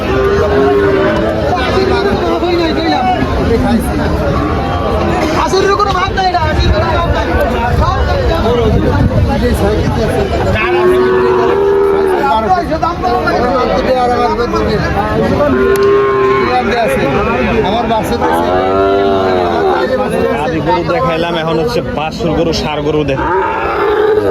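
Cattle mooing at the Tepakhola cattle market in Faridpur, repeated loud, close lowing calls rising over a dense crowd of people talking, with constant market bustle.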